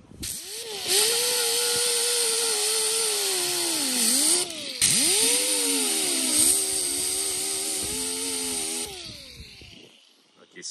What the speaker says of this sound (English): we'll be using a not so abrasive disc again, so that way we're not eating too far into the metal